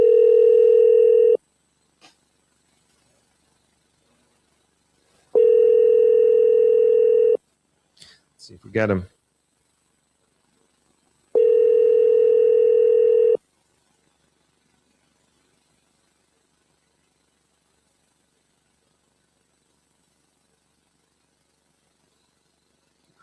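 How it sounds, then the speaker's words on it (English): A phone rings through a mixer with three long, steady electronic ring tones separated by gaps, heard fairly loud, with brief knocking and a short spoken line between them. "Can you guys hear it ringing?"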